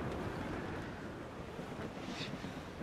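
Stormy wind at sea in Assassin's Creed Rogue: a dense, steady roar of rushing wind and surf, loud and continuous for a few seconds, with no talk over it.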